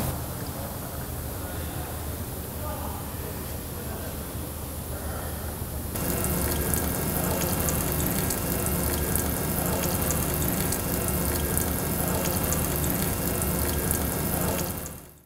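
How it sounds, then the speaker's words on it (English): Diesel fuel draining from the drain valve of a Cummins X-15 stage one fuel filter into a pan, a steady liquid gush and trickle that grows louder and fuller partway through and runs continuously to the end. "Next, we're going to be loosening the drain valve to evacuate the fuel filter."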